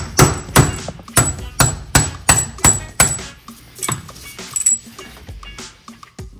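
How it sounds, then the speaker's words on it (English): Rubber mallet tapping a Polaris RZR axle end into the gear case, about nine sharp, evenly spaced knocks close by, loud at first then lighter and more scattered toward the end. "Just giving the other end of the axle a little love tap with a rubber mallet"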